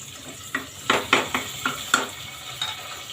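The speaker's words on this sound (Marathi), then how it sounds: "वांगी थोडीशी परतून झाली की मग त्याच्यामध्ये हा मसाला टाकून परतायचा आपल्याला." Brinjals being sautéed with green masala in a pan, with a soft sizzle under a series of distinct spatula scrapes and stirs at an uneven rhythm, close and fairly quiet.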